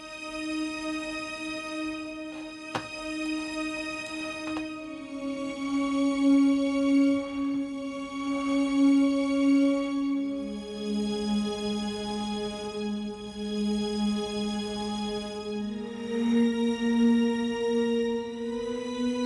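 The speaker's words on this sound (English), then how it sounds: "and then the strings sound like this." Recreated string backing music from the game Gyruss: sustained string tones swell and hold, shifting slowly between long notes in a smooth backing texture, with no speech.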